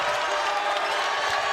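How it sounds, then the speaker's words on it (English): A basketball arena crowd at a college game cheers and applauds, a steady dense roar of many voices filling the space. "This crowd starting to get into it."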